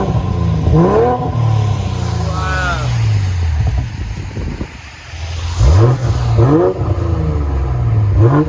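BMW X5 M40i with a modified exhaust revving repeatedly, loud close engine swells and bursts in several pulses with people talking over and between the revs.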